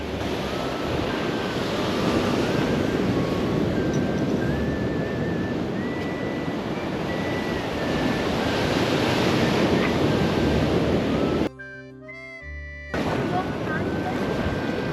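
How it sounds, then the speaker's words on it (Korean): Strong ocean waves crash at a seawater pool, a loud continuous roar of surf with heavy wind buffeting the microphone, briefly cut out near the end. "파도가 세긴 한데"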